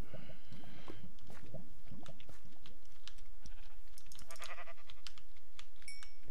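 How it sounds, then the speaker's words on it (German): Sheep bleat in the video game Minecraft, a few wavering calls near the start, followed by computer keyboard typing and clicks. "Da ist noch ein Schaf."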